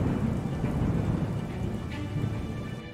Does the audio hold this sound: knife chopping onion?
no